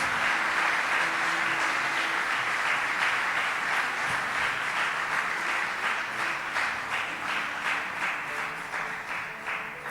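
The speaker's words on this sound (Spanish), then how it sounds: "Den un aplauso fuerte a Dios." A church congregation applauds at length, a dense, even wash of many hands clapping at moderate distance that slowly thins toward the end.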